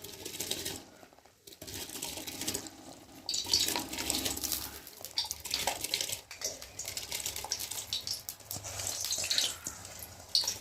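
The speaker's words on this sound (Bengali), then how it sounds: "এখন এই যে ভিজিয়ে রাখা চালটাকে আমি জলের মধ্যে দিয়ে দেবো।" Soaked rice for biryani is tipped into boiling water in a pot, giving quiet, irregular splashing and bubbling with scattered clinks of the vessel. No one speaks.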